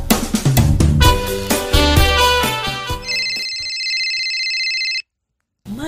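A cellphone rings on a table during a drama scene. Busy music-like sounds give way to a steady electronic ringtone that holds for about two seconds and then cuts off.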